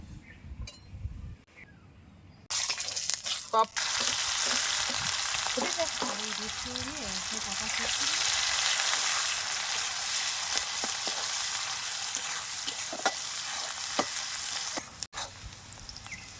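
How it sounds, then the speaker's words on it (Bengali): Steady sizzling of onions frying in a hot pan, with occasional stirring clinks, starting after a quiet opening and continuing loudly throughout. "পেঁয়াজটা আমার ভাজা হয়ে গেছে"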